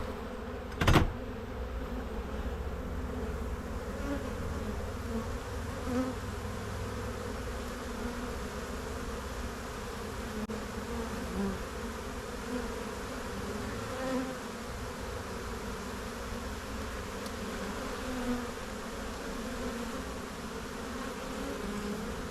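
A honeybee swarm drones in a continuous dense buzz at close range while a beekeeper inspects hive frames, with a sharp click near the start and a few faint handling sounds.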